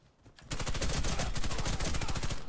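Sustained rapid automatic fire from a Calico M955A in the shooter game Warface, a dense, loud stream of close gunshots starting abruptly after a brief quiet lead-in and continuing without pause.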